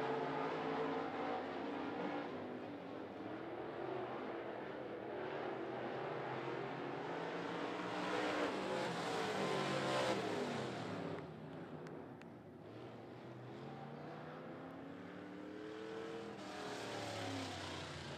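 Modified race cars roar around the 411 Motor Speedway oval in a sustained, loud, continuous engine drone with rising and falling revs as cars pass, no talk audible.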